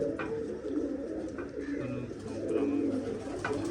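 Several pigeons coo in a steady, overlapping low murmur close by at a rooftop pigeon loft, a continuous soft throaty rumble with faint chirps above it.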